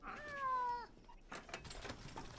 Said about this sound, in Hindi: बिल्ली को टेबल से नीचे उतारो